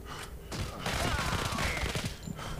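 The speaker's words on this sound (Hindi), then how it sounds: "ये कहाँ से फायर कर रहे भाई" Burst of gunfire in the mobile shooter Modern Combat 3, a dense rapid volley that fills the short stretch, loud and continuous with no talk over it.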